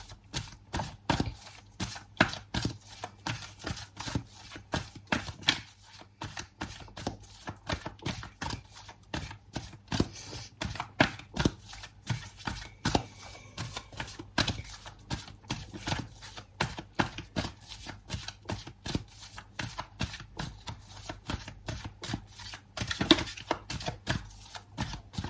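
Tarot cards shuffled by hand in a long steady run of rapid crisp riffling clicks, close and fairly loud with no talking over them.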